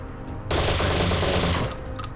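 Gunfire in the Phantom Doctrine video game: a single rapid burst of automatic shots lasting about a second, loud and close, rising from quiet ambience and fading afterward.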